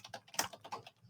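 Quick, soft keystrokes on a computer keyboard as instructions are typed into an online test, a short run of close, light clicks with no speech.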